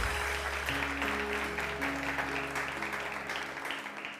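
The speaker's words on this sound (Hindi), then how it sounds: "आप लोग ज़रा तालियां बजाइए।" Studio audience clapping on a TV One morning show, steady applause layered over loud sustained music tones, fairly even throughout and slowly easing toward the end.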